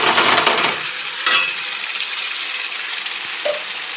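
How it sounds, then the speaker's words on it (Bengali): Spice masala sautéed in a pan bursts into a loud, close sizzle at the start, then eases into a softer steady hiss with one more brief flare and a light clink. "এইবার দিয়ে দেবো তোমার মশলাটা একটু কষিয়ে নিয়ে"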